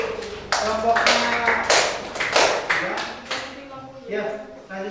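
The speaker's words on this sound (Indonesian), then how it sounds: "Tepuk tangan untuk kelompoknya." A small classroom group claps in several uneven bursts, close and moderately loud, with talk mixed in between the claps.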